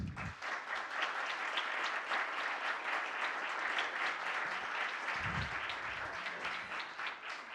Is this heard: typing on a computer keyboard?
no